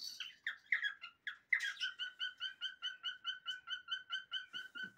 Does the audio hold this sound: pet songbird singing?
yes